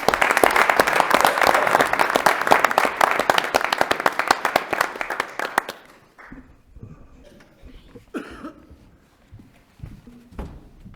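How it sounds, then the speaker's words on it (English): Crowd applause at a city council meeting, dense clapping that fills the room for several seconds, then stops abruptly and gives way to scattered footsteps, shuffling and small knocks. "One last round of applause."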